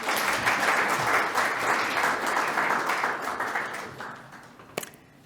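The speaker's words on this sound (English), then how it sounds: "Another round of applause for our panelists." An audience at a development finance panel event applauds its panelists, a dense sustained burst of clapping that gradually fades out, ending with a single sharp knock near the close.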